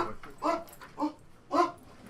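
A pet dog at home lets out three short, yelping barks mixed with whimpers, evenly spaced about half a second apart and fairly close, with no talking over them.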